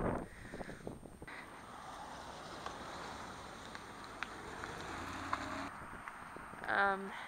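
Gusty wind buffets the microphone in a constant rumble, with a person talking faintly underneath and a brief chirp near the end.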